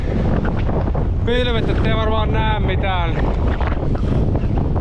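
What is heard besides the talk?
strong wind on mountain top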